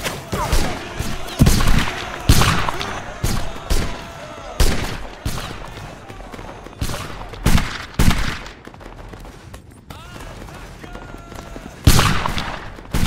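Musket volleys crack in a multiplayer historical skirmish game, with Hessian lines among the units. Loud, close shots come in irregular clusters, scattered fire carries from farther off, and voices are partly heard among the shots.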